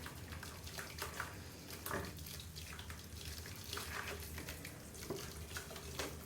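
Plaster powder sifted by hand into a container of water, giving a steady soft wash of hissing, trickling noise with small splashy bursts throughout, close and continuous.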